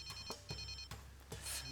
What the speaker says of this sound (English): Let it keep ringing.